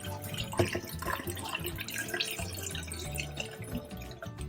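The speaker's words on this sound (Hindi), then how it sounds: "अब पानी निकाल देते हैं।" Water drains and drips from freshly washed green chillies in a kitchen, a busy close patter of trickling and splashing droplets that runs on steadily for a few seconds.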